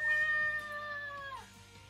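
A person imitates a cat with one long, drawn-out meow that holds steady and then drops in pitch at the end, close to the microphone and clear; no talking.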